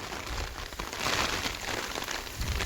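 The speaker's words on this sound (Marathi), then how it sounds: "एवढा बे बेकार पाऊस पडतोय" Heavy rain falls over Konkan paddy fields at rice-threshing time. The downpour is a dense, unbroken hiss that stays loud and steady for the whole stretch, with no voices.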